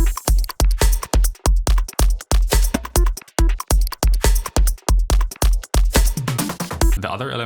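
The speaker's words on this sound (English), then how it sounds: "we have the drum loop that I made." A self-made drum loop plays on its own, with punchy kicks and snappy hits repeating in a steady, tight rhythm, loud and close, and a brief tonal flourish appears right at the end.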